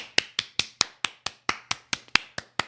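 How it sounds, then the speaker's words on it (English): Sharp, evenly spaced hand claps, about a dozen in under three seconds, ring out at a steady brisk rhythm, close and distinct rather than a dense wash of crowd applause. "big applause"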